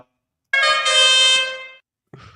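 A vehicle horn sounds one sustained, steady blast of about a second, loud and clear, then it falls silent.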